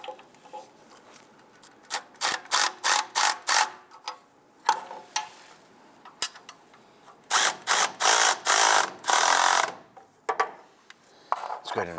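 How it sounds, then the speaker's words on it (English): A ratchet tightening the exhaust manifold flange bolts on a 2002-2008 Dodge Ram 1500, loud close bursts of rapid clicking strokes in repeated runs separated by short pauses. "let's go ahead and tighten down these two bolts for our flange"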